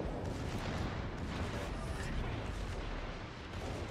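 Naval secondary guns firing in World of Warships: Legends, a dense, continuous barrage of booming shots layered into a steady roar of battle noise with no clear pauses.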